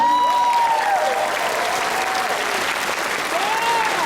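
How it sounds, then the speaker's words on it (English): Audience applause at an anime convention panel, a dense steady wash of clapping from a large crowd lasting throughout, with a voice talking over it. "Give them a big round of applause."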